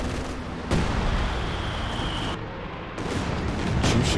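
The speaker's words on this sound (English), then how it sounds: "Katyusha coming through." Katyusha rocket artillery barrage in Company of Heroes 2, a dense rumbling wash of rapid launches and blasts that swells at the start, eases briefly in the middle, then builds again toward the end.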